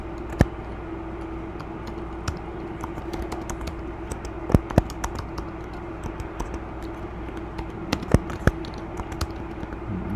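Computer keyboard typing while a record's fields are filled in directory software, with irregular bursts of clicky keystrokes and a few louder key taps over a steady low room hum.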